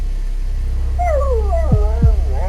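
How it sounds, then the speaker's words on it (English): An injured dog with broken hind legs whimpers in pain, a few high, wavering whines rising and falling in pitch, fairly close over a low background rumble. "It was whimpering in pain."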